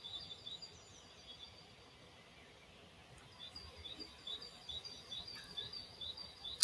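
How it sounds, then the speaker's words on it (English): Birds sing outdoors as faint, high, repeated chirps over a soft background hiss, growing a little busier toward the end, with no voices. "I like just hearing the birds."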